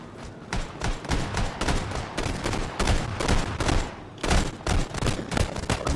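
Rapid bursts of video game gunfire, loud and close, firing in uneven volleys with thuds and short pauses between, in a game played on a PCAP Multimedia 3 PC.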